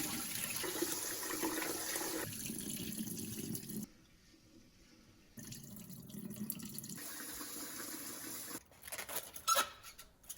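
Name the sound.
sweet rice being washed and rinsed in water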